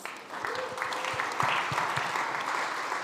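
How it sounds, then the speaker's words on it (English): An audience at a SXSW 2025 food and health panel applauds a speaker, a moderate wash of clapping with some distinct individual claps sustained for about three seconds, while voices murmur faintly in the background. "Give her a round of applause."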